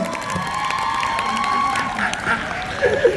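Applause from the audience and press at a 2023 Bangkok press conference for OK Taecyeon, mixed with excited cheering and high fan voices; a steady crowd roar with a few sharper shouts near the end.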